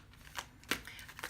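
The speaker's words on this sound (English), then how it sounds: "So I gave those some shuffles that way" Tarot cards get a few quick shuffles at close range, giving soft papery riffles and flicks in short bursts over a quiet room.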